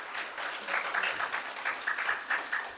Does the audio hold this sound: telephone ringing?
no